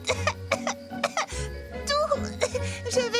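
A few short coughs from a cartoon character in Strawberry Shortcake, mixed with voices and background music.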